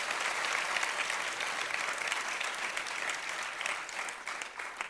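Steady, even applause from an audience seated in a studio courtroom-style show, clapping continuously at moderate level with no talk.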